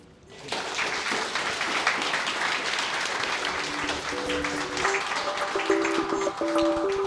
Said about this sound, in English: join me in giving a round of applause and a warm thank you to our whole panel